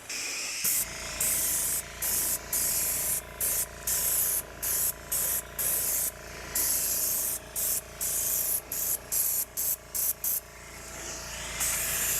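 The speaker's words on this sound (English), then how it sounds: "I'm gonna switch back and forth from airbrushing color on" An airbrush sprays color onto a worn car steering wheel during an interior repair, a close, steady hiss cut into many short bursts of varying length with brief silent gaps between them.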